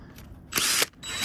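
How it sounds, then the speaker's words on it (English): A power drill with a hole saw coring through a fiberglass boat deck during restoration of a 2000 Pursuit 3400, giving a short loud whirring burst between quieter motor hum. "apply a light pressure, let the drill do the work"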